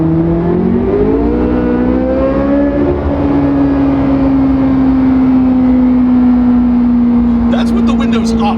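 C8 Corvette Z06 with an AWE exhaust and Eventuri intake, its engine holding a loud steady drone after a short rise in pitch, heard with the windows up, with a brief sharper burst near the end.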